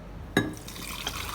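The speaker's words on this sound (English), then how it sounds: "now I'm just going to pour it into this jug" A blended immune booster drink pours into a jug, starting with a sudden splash and settling into a steady, close liquid trickle over a second or so, with no voices.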